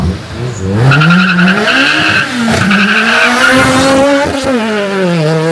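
A Honda DC5 with a racing exhaust and racing radiator revs hard past, its loud, raspy engine note climbing and falling through the gears, close and dominating throughout.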